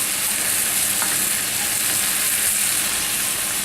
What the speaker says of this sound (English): Now, what you will know when you pan fry